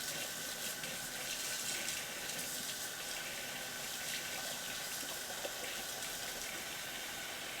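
A tap runs in a steady, even rush of water while batter is rinsed off a whisk, heard alone and fairly quiet throughout.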